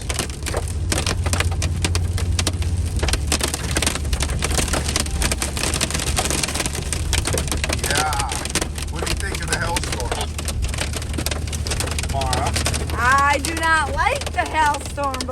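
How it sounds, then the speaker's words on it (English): Dense, crackling patter of hail hammering a hard surface without letup, with voices talking over it toward the end. "So we thought we would start filming the hailstorm."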